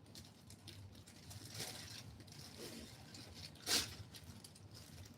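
A sewing machine stitches a seam in fabric for a peplum blouse, making a quiet mechanical whirring and ratcheting with one sharper clack near the end and no talking.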